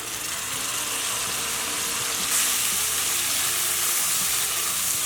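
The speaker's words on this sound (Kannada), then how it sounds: "ಟೊಮೆಟೊ ಹಸಿ ವಾಸನೆ ಹೋಗುವವರೆಗೂ ಫ್ರೈ ಮಾಡ್ಕೊಳ್ಳೋಣ." Tomato paste fries in a pan with a loud, continuous sizzle and hiss, steady throughout and swelling slightly partway, with no talking.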